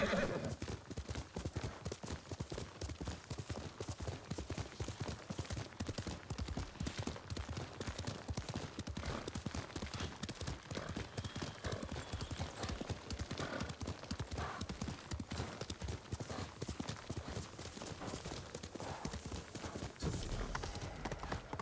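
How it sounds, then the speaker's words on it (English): Quick, continuous clip-clop of galloping horse hooves in the video game Ghost of Tsushima on PS5, a steady rhythmic patter that runs throughout at a modest level. "we could be a normal person and just ride our horse there."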